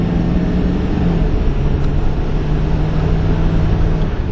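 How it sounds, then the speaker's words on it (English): Low, steady engine rumble from a 2011 Ford F250 Super Duty King Ranch diesel pickup under throttle, a continuous loud drone with a faint tonal hum running throughout, no voices. "let's see if we can just give it a little more throttle than we have been and see what kind of power this thing's got"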